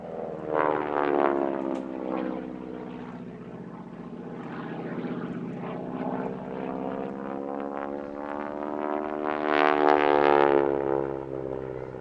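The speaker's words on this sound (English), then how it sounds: "we have Nigel Wilson flying Anglia Warbird's AT-6C Harvard 2A, which is our third genuine Second World War aircraft of the day" A 1942 AT-6C Harvard 2A WWII training aircraft flies past at an airshow, its propeller engine droning and rasping, swelling as it nears and again later, heard at a distance with no talk.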